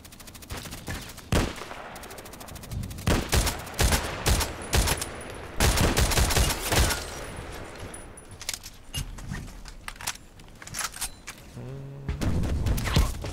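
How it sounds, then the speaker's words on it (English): Repeated gunfire in a sniper-themed shooter game, played while aiming at a friend: loud bursts of shots and rapid volleys scattered across the clip, with short quieter gaps between exchanges. "Shooting at my friend."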